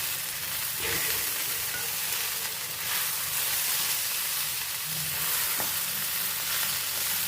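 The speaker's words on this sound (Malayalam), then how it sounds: "മീൻ പൊരിച്ചത് റെഡിയായി ഇനി നമ്മുടെ ഇതൊന്നും ഇളക്കിയാൽ മാത്രം മതി" Fried anchovies stirred in a pan, a continuous hissing sizzle of hot oil with occasional soft scrapes of the spoon, close and steady with no voices.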